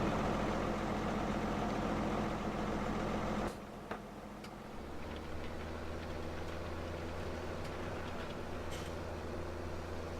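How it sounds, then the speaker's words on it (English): A tractor engine idles in the farming game Farm Simulator 17, a steady low droning hum that cuts out briefly after a few seconds and then settles into a deeper, even idle. "Let's get that tractor out of the way"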